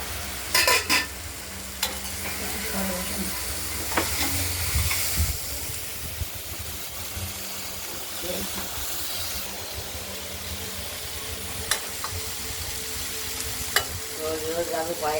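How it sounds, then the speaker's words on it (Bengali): Thin pumpkin strips frying with bitter gourd in a kadai with a mustard-seed tempering sizzle steadily while a spatula scrapes and clinks against the pan at intervals. "কুমড়োগুলো ভাজা ভাজা হচ্ছে, বারে বারে আমাদের নেড়ে দিতে হচ্ছে।"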